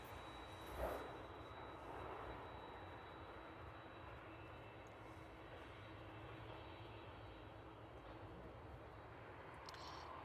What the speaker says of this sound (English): UPS 767 just coming, vacating from runway 27.